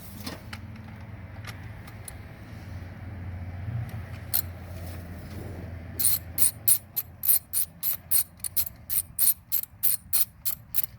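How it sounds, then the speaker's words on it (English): Ratchet loosening a 10mm bolt on a 2005 Dodge Dakota V6 or V8 engine coil pack: faint mechanical handling, then a quick run of sharp, evenly spaced clicks, close and alone. "So now we can loosen up our 10mm bolt."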